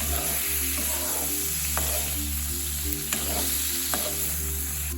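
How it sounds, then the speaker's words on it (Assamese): Paneer frying in butter in a pan with a steady sizzle, a low background hum, a few soft utensil taps and stirring sounds, no talking. "এতিয়া অকণমান ফ্ৰাই কৰি ল'ম পনীৰখিনি"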